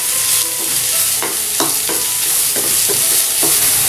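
Vegetables with curry leaves sauté in a pan for masala rava idli, giving a loud steady sizzle with a regular series of spatula scrapes and stirs and no talking.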